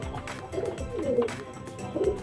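Phulshira pigeons kept in a loft coo in a few rounded, wavering calls, close by and fairly soft, with no talking.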